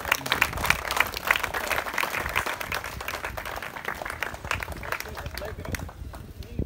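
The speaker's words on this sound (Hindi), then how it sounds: "तालियां बजाओ।" An audience claps steadily and loudly at a gathering in Jhunjhunu, the dense patter continuing for several seconds before easing off at the end.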